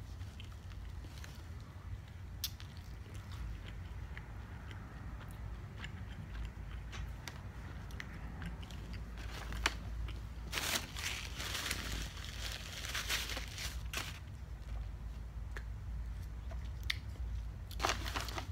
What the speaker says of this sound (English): The potatoes are very crunchy in this one.